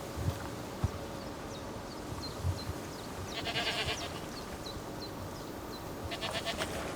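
Alpine goats on a farm in the video game Planet Zoo, bleating faintly amid a dense ambient bed with bird chirps and occasional hoof-like clops, the animal calls distant and soft.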